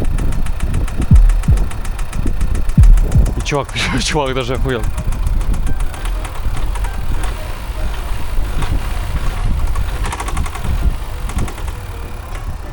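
A damaged Acura car engine runs rough with a steady knocking rattle, loud and close throughout, while someone talks and laughs over it for the first few seconds.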